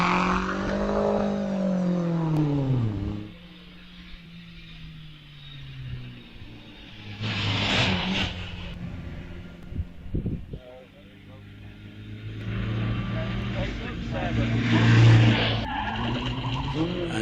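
A hillclimb race car with skidding tires and an engine note rounding the final corner toward the finish line at Wiscombe Park, heard at a distance beneath a live commentator talking, with a tire squeal and engine swells.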